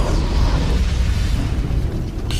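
A deep, rumbling chain explosion of ammunition in a sorcery-tech artillery position in the animated series Soul Land 2, a loud sustained roar of overlapping blasts with a sharper burst at the very end.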